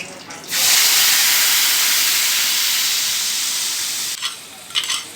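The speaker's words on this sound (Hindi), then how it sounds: "अब इसमें मैं डालूँगी ग्रीन चिलीज स्लिट करके" Slit green chillies, already fried, drop into hot oil in a kadai and burst into a loud, sustained sizzle that hisses on for several seconds, then eases into a few stirring scrapes near the end.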